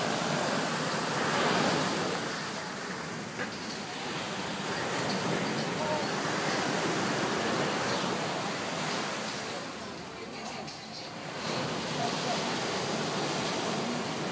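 Surf rolling onto Grand Anse Beach beside the Flamboyant Hotel, a continuous broadband wash of breaking waves with gentle swells in loudness and some wind buffeting the microphone, moderately loud and steady.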